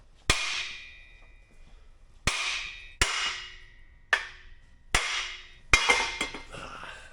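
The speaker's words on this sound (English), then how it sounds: "you're going to have to hit the cast with a good strong hammer" Six sharp metallic hammer blows on a cast steel Dana 60 steering knuckle ring out at uneven intervals, each leaving a bright ringing tail that fades before the next strike.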